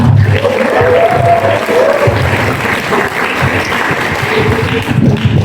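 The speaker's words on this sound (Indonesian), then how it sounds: "Tepuk tangan untuk kita semua." An audience at a public lecture applauds steadily and loudly, dense clapping sustained throughout with a low crowd murmur underneath.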